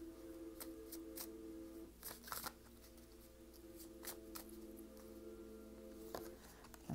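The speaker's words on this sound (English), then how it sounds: "I had my eyes closed while I was shuffling and taking some deep breaths to pull in the energy." Tarot cards being shuffled by hand, soft papery riffles and taps in a quiet room with a low steady background hum, irregular bursts of card noise spread across several seconds.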